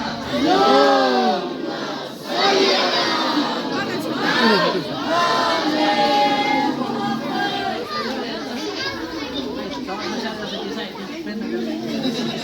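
A large crowd chants salawat together in loud unison at a 13 Rajab Hazrat Ali gathering, voices rising and falling in a rhythmic devotional recitation, close and echoing.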